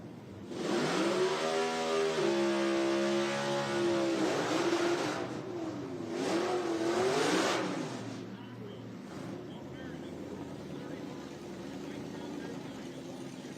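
A nitro drag racing car engine at an IHRA Outlaw Nitro Series event fires up and revs in rising, falling sweeps, then settles. A commentator talks over it.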